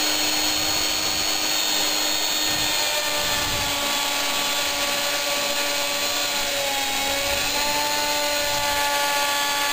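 CNC router beginning a 3mm-deep cut with a dust shoe attached, a loud continuous high spindle whine with vacuum-like hiss and a low grinding rumble underneath, steady for the whole stretch.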